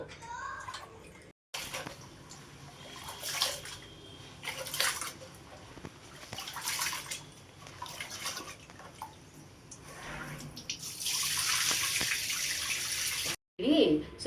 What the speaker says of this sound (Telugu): ఇప్పుడు నానబెట్టినప్పుడు కడుక్కుందాము